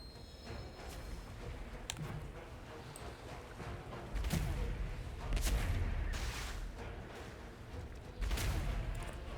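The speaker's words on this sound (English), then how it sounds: "Alright, one more cannon." Heavy cannon blasts booming in World of Warcraft Battle for Azeroth on Kul Tiras, three or four deep thuds spaced a couple of seconds apart over a busy game ambience.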